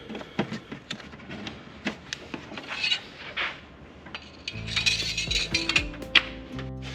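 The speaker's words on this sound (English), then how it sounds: "And now we just literally put the oil cap back on." A Honda S2000 oil cap is screwed back onto the engine, with light plastic and metal clicks, taps and rubbing close to the microphone, followed by a faint tonal hum near the end.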